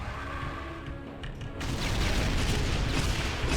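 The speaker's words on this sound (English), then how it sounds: "if we can mess up two Cyber Demons with a cannon," Heavy gunfire and explosive blasts from the Doom video game with the Complex Doom addon, a loud, dense barrage that swells midway into continuous booming and crashing.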